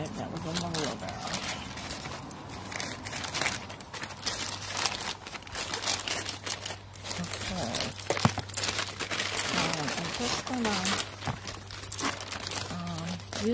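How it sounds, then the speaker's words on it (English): A person uses scissors to cut up the seam of a cement bag, producing steady crinkling and crumpling paper rustles with sharp snips, close and loud, while someone talks over much of it. "I'm just going to cut up the seam of this bag"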